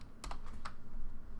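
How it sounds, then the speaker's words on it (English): Soft shuffling noises in a room: a few quick, light rustling taps close together, faint against a low background hum. "No, you don't hear the shuffling?"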